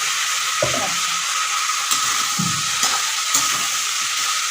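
Fried eggplant and green banana being stirred in a pan for shukto, a steady soft sizzle with a few scraping stirs and light clinks of the utensil spaced irregularly, close and without talk.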